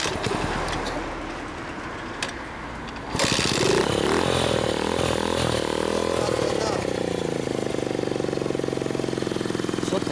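A Honda Ape 50cc motorcycle fitted with a BMS-R exhaust idles close by with a loud, buzzy, uneven putter that starts suddenly after a quieter stretch where people talk.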